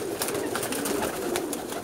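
Lal Pari pigeons brought from Pakistan coo softly in a short, low, murmuring burst, close by and without talk.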